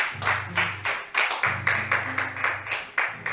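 A church congregation claps in a steady rhythm, roughly two claps a second, acclaiming the word of God over low sustained musical tones.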